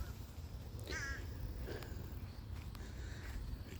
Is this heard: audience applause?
no